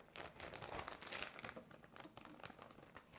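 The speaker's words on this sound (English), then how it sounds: "place it in a zipper bag" A plastic zipper bag crinkles softly as raw meat is placed inside for marinating, with quiet, irregular rustles and crackles close by.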